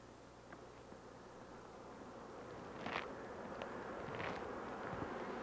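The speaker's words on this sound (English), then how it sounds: "We've got bees on all 10 colonies." Honey bees hum in a steady, faint drone around an opened beehive on a ten-colony organic farm in Bangladesh, with a few brief closer buzzes as insects pass near.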